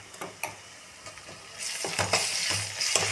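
Ginger garlic paste frying in hot oil with onions and curry leaves, a close sizzle that swells louder midway, with soft stirring scrapes and spatters over a steady hiss.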